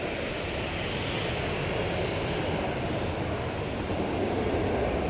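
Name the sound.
TUI Boeing 787 Dreamliner jet aircraft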